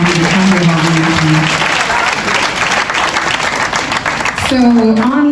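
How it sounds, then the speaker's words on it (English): A crowd at a political party conference applauds loudly and steadily throughout, with a voice speaking over the clapping at the start and again near the end. "So a round of applause"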